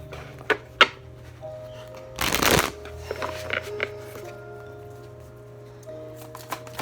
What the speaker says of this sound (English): shuffle the cards a bit, kind of wake them up